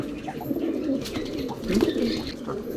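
Male pigeon cooing at a loft where birds are offered for sale, soft rolling low coos repeating in bursts at close range with no talk.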